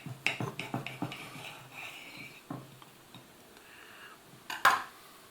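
A knife and fork scrape and clink on a plate while a piece of freeze-dried ration pizza is cut, giving a run of short clatters at the start, a quieter stretch, then one sharper clink near the end.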